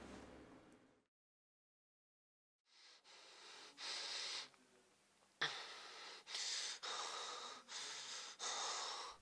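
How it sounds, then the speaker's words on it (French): A person breathes rapidly and deeply, close to the microphone. After a short silence come six loud, evenly spaced breaths in a steady rhythm, with no talking. "Ma respiration devient rapide et ample."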